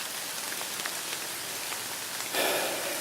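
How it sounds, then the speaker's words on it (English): Steady rain falls outdoors at a woodland bow-hunting camp, a soft continuous patter across the surroundings that swells slightly louder near the end. "See if anything's moving in this rain."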